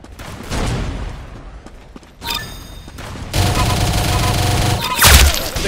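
Rapid gunfire from the Roblox game Arsenal, bursts of shots and a steady rattling stream that grows louder toward the end, with voices talking underneath.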